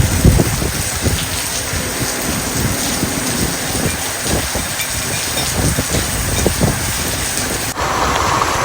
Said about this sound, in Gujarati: જોરદાર બારિશ આપણે વરસાદની સવારમાં માંગણી કરીને અત્યારે આવી ગયો વરસાદ